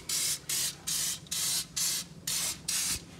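White lithium grease sprays onto the gearbox of a Troy-Bilt Vortex Tracker 2890 snowblower in seven short, close hissing bursts with even pauses between them.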